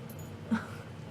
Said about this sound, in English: Apparently you outro it with my dog trying to jump into frame.